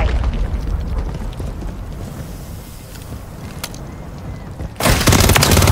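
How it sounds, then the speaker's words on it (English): A cruise missile strikes in a Call of Duty Modern Warfare 3 hardcore Hardpoint match, arriving as a sudden loud, broad blast near the end after several seconds of rumbling battle noise and scattered clicks. "Hostiles launched a cruise missile."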